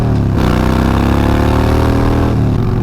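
A salvaged Harley-Davidson Dyna motorcycle engine runs loud and close while riding down the road, a steady throbbing drone that climbs in pitch as it accelerates and eases off near the end, with no talking.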